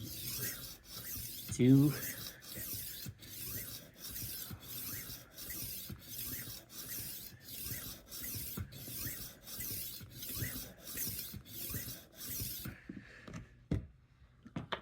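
A knife drawn repeatedly across a rolling sharpener at 15 degrees, giving a rhythmic series of close, raspy rubbing strokes at a steady pace that stop near the end, with a brief spoken word early on.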